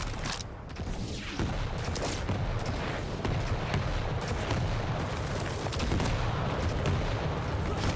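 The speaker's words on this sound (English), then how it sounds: "Rockets trading back and forth" Rockets fired back and forth in a Quake World Championships 1v1 duel, a rapid run of loud explosive bursts and booms layered over constant game action, dense and close throughout.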